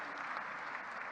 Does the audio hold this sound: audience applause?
yes